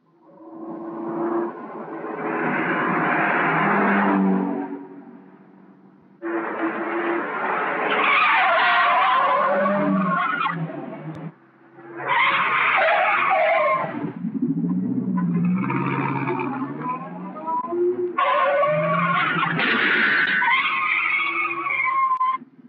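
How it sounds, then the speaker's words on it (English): A car takes a corner at speed with long, loud tire skids, several squealing bursts separated by short gaps, engine roaring between them. "Take the next corner easy and then step on it."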